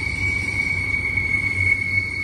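Freight train passing at Cajon Summit, heard as a steady low rumble of rolling cars with a constant high metallic wheel squeal or ring running throughout, close and continuous with no talk.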